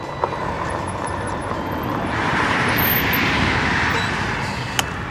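Roadway traffic from the I-55 highway near Chenoa, Illinois, a broad continuous roar of passing cars and trucks that swells slightly in the middle, heard from nearby with a couple of sharp clicks and no talking.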